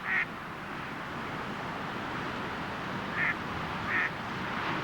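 Ducks on wind-lashed, choppy lake water in New Zealand's South Island, giving a few short quacks at intervals over a constant loud roar of wind and waves.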